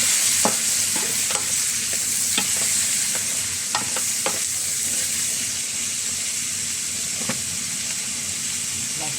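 Pork sizzling in a pan for gisadong sotanghon, a steady close hiss of frying broken by scattered scrapes and clinks of stirring, with little talk.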